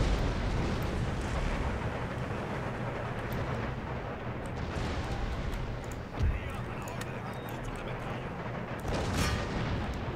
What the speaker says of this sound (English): eventually my men will rise up and provide fire